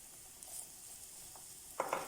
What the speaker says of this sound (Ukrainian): ставимо сковорідку на вогонь, додаємо рослину олію та вкидаємо цибулю, порізану невеличкими кубиками